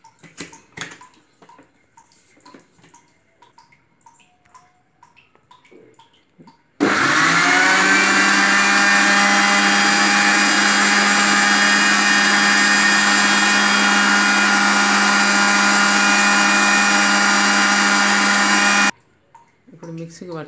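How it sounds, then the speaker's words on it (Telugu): A mixer grinder blends apple juice with sugar and milk, the lid on, roaring loud and steady for about twelve seconds, then stopping abruptly, with quieter handling noises and brief talk before and after. "మూత పెట్టి మిక్సీ పట్టుకుందాం"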